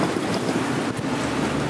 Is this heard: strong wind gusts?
yes